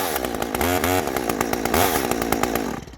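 A repaired chainsaw runs loud and close, its engine revving up and settling in uneven pulses before cutting off near the end.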